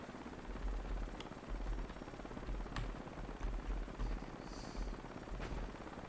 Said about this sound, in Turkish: Uç be bu helikopter.